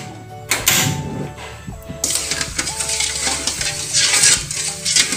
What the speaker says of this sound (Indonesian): Kita aduk sampai larut ya, sampai mengkaramel.